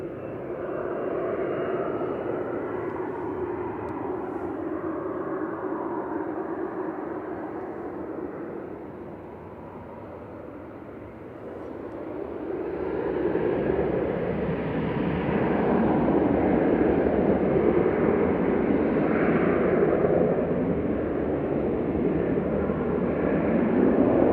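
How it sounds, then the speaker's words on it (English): Ryanair Boeing 737-800 jet at Manchester Airport gives a steady broadband engine roar that dips briefly, then swells louder and holds, a continuous rumble with no talk. "Ryanair 2898 to Venice there, 737-800 9HQAT."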